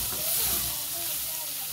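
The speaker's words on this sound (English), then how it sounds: "I'm just going to add in the minced meat, and after adding it in, obviously I'll give it a stir." Minced meat hitting hot frying onions in a pan, a steady close sizzle and hiss with faint stirring scrapes, constant and fairly loud throughout.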